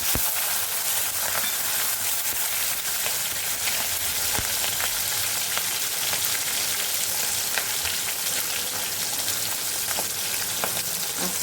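Dried red chili goes into hot ghee already holding cumin seeds, giving a steady, even sizzle and fine crackle throughout, moderately quiet and with no talking.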